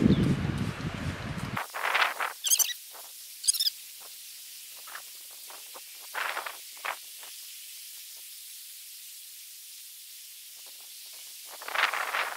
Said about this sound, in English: But I just spray everything.